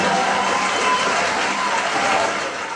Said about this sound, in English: The applause is there somewhere.